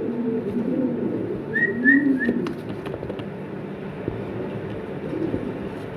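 Large fancy pigeons, a pair, with a short run of bird whistles and soft cooing midway over low background rumble, no speech.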